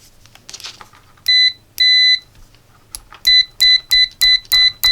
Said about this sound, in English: First I'm gonna try the continuity test, how fast it is.